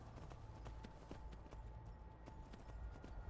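A horse's hooves clip-clop at a steady trotting pace in the Skyrim video game, quiet and rhythmic over soft ambient background.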